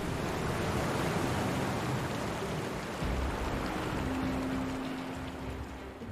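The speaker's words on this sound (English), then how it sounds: "That'll drain the water." Water rushes and drains through the sewers in the Final Fantasy VII Remake video game, a continuous broad wash of flowing water that holds steady and fairly loud across the whole stretch, with no speech.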